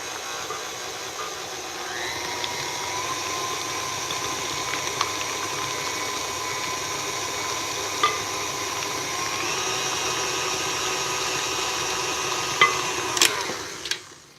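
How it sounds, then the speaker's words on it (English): An electric stand mixer beats cake batter while maple syrup is poured in, giving a steady mid-pitched motor whir that shifts speed a few times, with occasional faint clinks of a spatula on the bowl and no speech. "I'm going to pour in a half a cup of maple syrup as I'm mixing in a few additions, and just like making a cheesecake, I'll scrape the bowl now and again"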